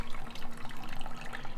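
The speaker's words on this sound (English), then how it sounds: "they do want you to run some hot water over the bag to get a little bit of the grains out" Hot tap water running over a bag of steeping grains during beer brewing, a steady splashing pour with bright bubbling texture, alone and fairly close.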